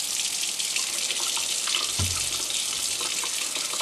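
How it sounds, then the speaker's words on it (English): Hot water runs steadily from a tap into a sink drain being cleared of a clog, a close, even rushing stream with a brief low thump partway through. "we'll go up and we'll just run some hot water through the line"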